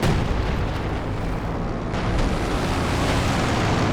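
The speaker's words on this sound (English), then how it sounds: "Got the Sexton firing. I think we've got the LEFH firing as well." Artillery guns fire in Company of Heroes 2, a Sexton and an LEFH howitzer among them, making a continuous rumbling roar of overlapping blasts and booms that stays loud and dense throughout.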